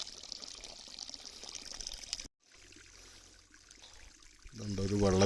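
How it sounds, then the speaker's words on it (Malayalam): Spring water spilling from a pipe as a small waterfall in Eravikulam National Park, Munnar: a thin, steady trickle and splash, cut briefly by a gap, then a voice starts speaking over it. "ഒരു വെള്ളച്ചാട്ടം ഒഴുകി വരുന്നത്."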